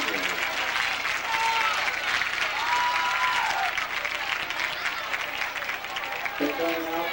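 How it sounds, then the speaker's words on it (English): A crowd applauds dance singers at a T.L. Hanna versus Hillcrest high school football game, sustained clapping and cheering from a distant stadium audience heard over a public-address echo. "So we give a big round of applause for all these dance singers."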